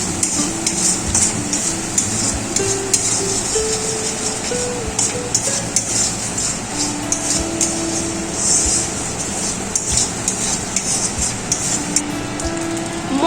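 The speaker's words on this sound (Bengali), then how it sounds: "নেড়ে চেড়ে নিচ্ছি। ভালো করে মশলাগুলোকে কষিয়ে নেব।" Masala spices for a katla fish curry being stirred and fried in a pan with salt, a steady sizzle under repeated scraping and clinking of a spoon against the metal, close and continuous with no talking.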